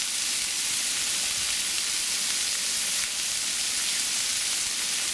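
Corn frying in a shallow layer of margarine in a pan gives a steady, dense sizzle that holds evenly throughout, close and continuous with no talking.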